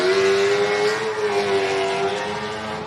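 A race car with a cranky 7-litre engine launches off the line at the Gundy 500, a loud, close, sustained engine roar with a steady drone and no talk over it.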